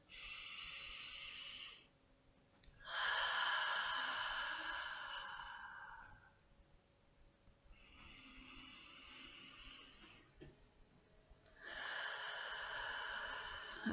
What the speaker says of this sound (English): take a couple of good, long, deep breaths